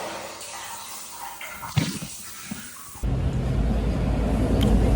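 Shower water starting suddenly partway through, a loud steady hiss and spray that continues to the end after a quieter stretch of faint rustling and handling noises.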